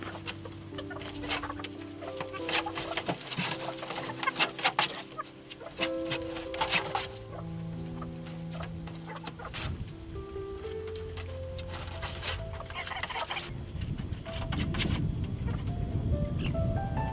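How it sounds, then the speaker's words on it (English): Backyard chickens cluck and murmur while pecking at a chilled, firmed-up treat, with soft overlapping calls and scattered pecking ticks close by, plus some rustling and a rising broadband wash near the end. "And let's see how the chickens like it."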